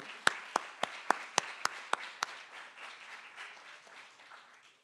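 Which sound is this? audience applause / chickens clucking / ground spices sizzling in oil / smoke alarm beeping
audience applause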